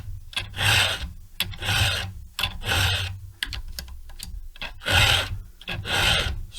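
Hand file sharpening a Stihl chainsaw chain, converting full-chisel cutters to a milling angle, in quick rasping strokes, some short and some longer, close and bright with no talking.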